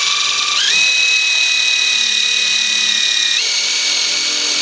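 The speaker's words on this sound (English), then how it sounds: "Now we're going to run our 5/16 self-tapper" A power drill drives a 5/16 self-tapping screw into a stealth pool build, its steady high motor whine rising in pitch as the bit bites and spins for about three seconds, then dropping back, loud and close with no talk.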